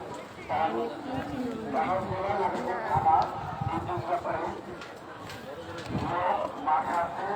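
Cattle at the Eastern Housing cattle market low intermittently beneath constant nearby crowd chatter and bargaining voices.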